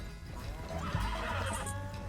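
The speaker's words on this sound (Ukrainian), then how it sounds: "Далі ловимо коня, який втік." A horse in Red Dead Redemption 2, a runaway being caught, gives a loud, drawn-out whinny close by, over a steady game backdrop with faint hoof clatter.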